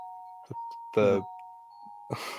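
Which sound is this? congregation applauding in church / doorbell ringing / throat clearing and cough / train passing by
doorbell ringing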